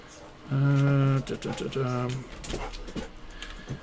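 Dogs play after dinner indoors, letting out high whining yelps and whimpers in short bursts, close and fairly loud, with a person talking faintly around them.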